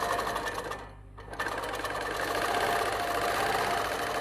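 Computerised quilting machine stitching in precision mode at 10 stitches per inch: a continuous close mechanical hum with rapid needle chatter, briefly dipping near the start before running steadily on.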